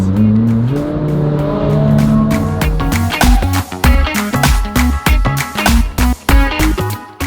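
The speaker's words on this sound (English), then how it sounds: "listen to some Ferraris" Ferraris at a car show rev hard: a rising, sustained engine note gives way to a rapid string of loud throttle blips and bursts close by, with no talk.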